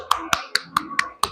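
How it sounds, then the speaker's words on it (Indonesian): A school class claps hands in a crisp, evenly spaced rhythm, six sharp claps ringing out close and distinct with quiet gaps between them. "tepuk tangan dulu dong"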